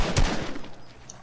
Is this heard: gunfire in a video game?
yes